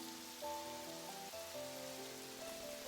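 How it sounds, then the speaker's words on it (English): Heavy rain pours steadily onto street pavement, a dense continuous hiss of drops spattering the ground, with a soft tonal musical backdrop running underneath throughout. "Though the rain only seems to get heavier the moment he leaves"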